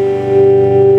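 A single sustained clean note rings from a Telecaster electric guitar through a Bugera 333XL 2x12 120-watt tube combo amp, with a bright, steady, close tone and little decay.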